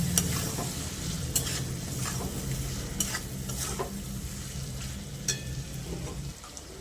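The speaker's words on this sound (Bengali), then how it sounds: "এবার এই মশলাটাকে ভালো করে কষতে হবে" Spice masala of turmeric and cumin powder stir-fried in a pan for a vegetarian banana-flower curry, a steady close sizzle with scraping stirs and clinks throughout, no talking.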